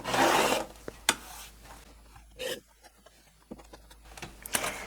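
Fabric quilt blocks being trimmed to 12 inches with a ruler and rotary cutter: close rasping cuts and rubbing strokes in short bursts, with small clicks and quiet gaps between.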